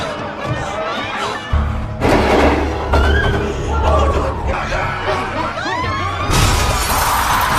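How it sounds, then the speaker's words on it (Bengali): Glass shatters and crashes amid a panicked crowd in a zombie film's train station scene, with loud thuds, screams and chatter layered over a low rumbling score. "সামনে থাকা মানুষদের চাপে কাছও ভেঙে যায়"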